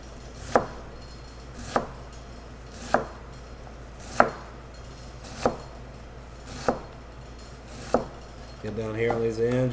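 Knife chopping down through an onion on a board, seven sharp, evenly spaced thunks about a second apart, close and clear, followed at the end by a brief burst of louder, busier sound.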